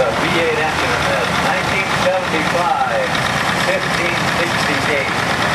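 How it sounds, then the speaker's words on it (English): A 1975 4568 tractor with a V8 engine and twin exhaust stacks idles nearby at a rodeo or farm show, a steady mid-to-low rumble running continuously beneath a voice and crowd noise. "Notice the twin exhaust stack there. This is a V8 engine in this."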